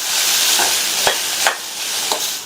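Beans poriyal being stirred in a hot pan, a steady close sizzle with a few soft scraping strokes of the spoon, no voices.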